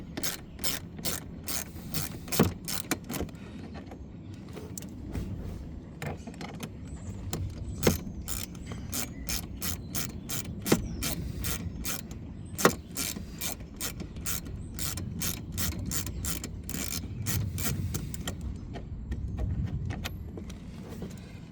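A ratchet with a 7mm socket backs out two screws holding a shield on a 2013 Ford Mustang. Rapid, evenly spaced mechanical clicks continue close up over a low background hum, with no speech.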